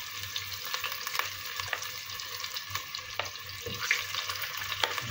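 Onions fry over high heat in oil for a Filipino-style pork curry, a steady close crackle and hiss with occasional scrapes of a spatula stirring the pan.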